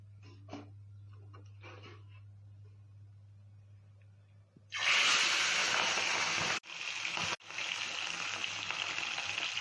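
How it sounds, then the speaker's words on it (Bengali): Fish frying loudly in a hot pan, the broadband sizzle bursting in about halfway through and then holding steady with two brief dips, after a quieter stretch of faint kitchen noise and a low hum. "মাছ ভাজা বসালাম, আর এই মাছটাকে বিশাল ভয় পাই।"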